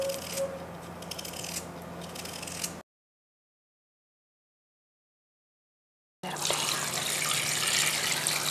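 Shredded potatoes being washed by hand in water, a continuous splashing, rubbing wash close by, broken by a few seconds of silence before the sloshing resumes louder.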